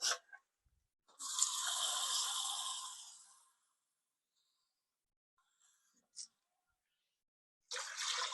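Water poured into a cooking pot for tinola, heard as a few separate pours: one steady splashing stream lasting about two seconds, then a brief splash, then another pour starting. The sounds are close by, with quiet gaps between them.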